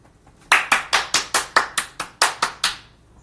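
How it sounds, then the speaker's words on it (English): Neighbours clap from open windows, a run of about a dozen sharp, evenly spaced claps ringing out across the street, fairly loud and unaccompanied by talk. "I'm leaning out for the clap."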